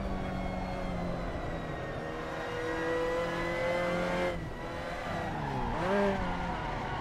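A Mazda MX-5 race car in Assetto Corsa drifts around Paul Ricard, its engine droning steadily with shifting revs while tires squeal and skid through a wide slide, rising sharply near the end.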